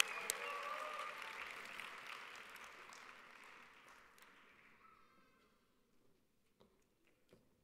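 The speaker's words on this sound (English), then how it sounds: "give her a good round of applause" Audience applause welcoming a guest of honor at a youth convention, a modest round of clapping that starts full, thins out and fades to a few scattered claps; faint overall.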